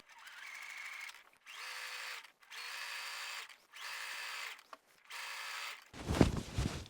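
A sewing machine stitches campervan memory foam topper material in six short runs of rapid whirring, each a second or so long and separated by brief pauses, followed by a rustling thump of fabric being handled.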